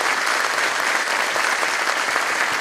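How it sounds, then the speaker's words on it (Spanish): A congregation applauds seminarians during a Catholic Mass for the feast of the Virgen del Carmen in Pelarco, with dense, steady clapping that holds evenly throughout. "Pero si hacemos un aplauso, primera cosa, a estos frutos de nuestra tierra."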